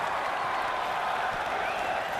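A crowd at a tournament in The Witcher 3 roars and applauds, a dense continuous wash of cheering that stays loud and even throughout.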